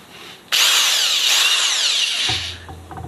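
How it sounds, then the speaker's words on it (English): A power drill spins a paint stir ribbon through homemade laundry detergent mix, starting abruptly with a loud, steady whirring whine that holds for about two seconds, then winds down into a low hum. "I start out with a drill and what they call a paint stir ribbon"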